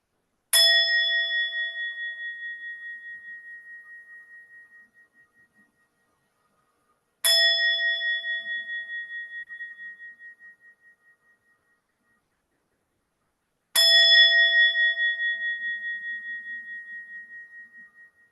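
A yoga class bell is struck three times at even intervals, each a clear bright ding that rings out with a long pulsing decay before the next strike, alone in silence.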